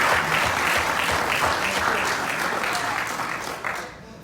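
A large audience applauds steadily at a Nation of Islam gathering, dense continuous clapping that tapers slightly toward the end, with no one speaking over it.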